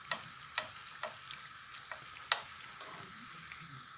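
Sfenj beignets frying in hot oil after being turned, a steady bubbling sizzle with crisp pops and crackles at irregular intervals, close and unaccompanied by talk.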